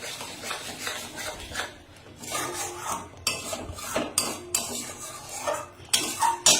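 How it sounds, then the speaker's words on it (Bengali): Spice masala with Kashmiri chilli powder, tomato and hing is stirred and fried in a pan for aloo dum, with repeated close metallic scrapes and clinks of a spatula against the pan over a soft sizzle. "মশলাটা কষাচ্ছি"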